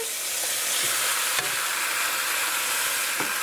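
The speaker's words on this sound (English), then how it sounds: "So I'm just going to let this fry up in here for about a minute." Boiled cassava dumplings stuffed with salt fish fry alongside tender-crisp vegetables in a pan, giving a steady, close hiss and sizzle with a few faint stirring clicks.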